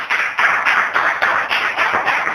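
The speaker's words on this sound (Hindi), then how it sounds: "जोरदार तालियां" Church congregation applauding during a Hindi-language sermon, a loud, close burst of many hands clapping in steady pulsing waves for a couple of seconds, with no voices over it.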